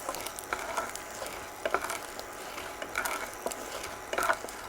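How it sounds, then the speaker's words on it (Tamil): Urad dal frying in oil in a pan, a steady soft sizzle with occasional light scraping and stirring clicks, close by and without talk. "இப்போ உளுந்தாம்பருப்பையும் போட்டு நல்லா அந்த எண்ணெயில் வதக்குவோம் இதோ செவப்பாக ஆகணும்"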